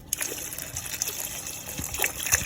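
Homemade rose-hibiscus face toner pours from a cup in a steady, close gushing stream with light splashes and trickles, heard alone with no talking.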